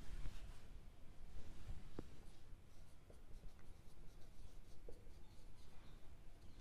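Chalk or marker writing on a classroom board during a maths lesson, faint scratchy strokes with a few taps, steady low room noise underneath.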